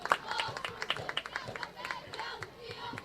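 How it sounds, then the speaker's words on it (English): Spectators applaud at a prep high school football game as an injured player is taken off the field, scattered clapping and crowd noise at moderate distance with voices over it. "that's why the applause you hear as he is going off the field"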